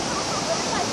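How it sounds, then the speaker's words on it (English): A river rushing steadily below a suspension bridge in Taroko National Park, a constant broad roar of flowing water heard from above without breaks. "There's the river."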